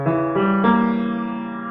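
A single fully diminished seventh chord sounds on a piano, with notes entering in quick succession before ringing together and slowly decaying, close and clear with no talking.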